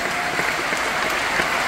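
Audience applause at a Cannes Film Festival screening: dense, steady clapping from a large crowd, continuous and even throughout with no voices standing out.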